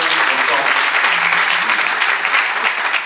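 Audience at a left-wing political meeting in Toulouse breaks into sustained applause, a dense steady wash of clapping from the crowd that holds at full strength for the whole stretch, with some voices mixed in.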